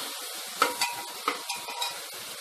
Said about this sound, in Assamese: অকণমান পাচলিখিনি ধুনীয়াকৈ ভাজি ল'ম